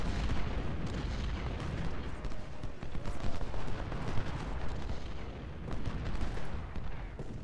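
Cannon booms and musket volleys from a Civil War battle at Shiloh in Ultimate General: Civil War, a continuous rumbling roar of distant artillery and massed rifle fire.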